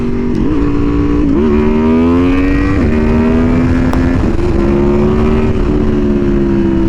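A 2015 Aprilia Tuono V4R motorcycle engine revs loudly up close, its pitch climbing and dropping in several quick blips before settling into a sustained high drone.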